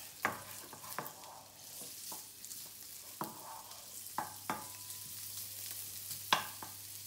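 Chorizo frying in a pan: a steady soft sizzle with sharp clicks and scrapes as it is stirred, spaced irregularly across the stretch, fairly quiet and close.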